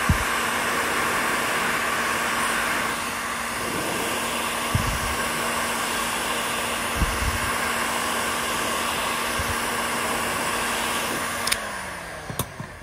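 A heat gun blows hot air at 500 to 600 degrees onto the crankcase of a Husqvarna 395 XP chainsaw, a steady close whooshing drone with a constant motor whine and a few brief clicks and knocks near the end.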